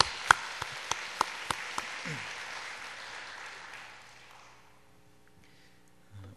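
A congregation claps during a Wednesday worship service at a holiness church in Cheonan. A few sharp single claps open into a short wash of applause that fades away to near silence, and a faint low sound follows at the end.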